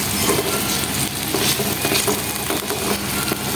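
Garlic cloves, big and small, fry in oil in a pan over medium-low heat, giving a steady, dense sizzle and crackle that carries on without a break and without talk.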